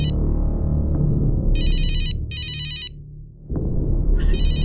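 A mobile phone ringtone chirps in two short electronic bursts over a low, dramatic music score, followed by a sharp rising tone, loud and near.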